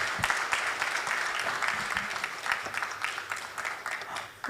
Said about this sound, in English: Let's give them a round of applause once more.